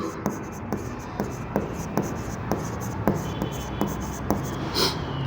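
A pen writes on paper during an accounting journal-entry lesson, giving soft repeated scratchy strokes in a steady rhythm, close and moderately loud, with faint background hiss.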